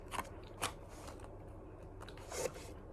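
Dubai chocolate with crunchy yellow filling is bitten close to the mic, giving a few sharp, quiet crunches spaced across three seconds without talking.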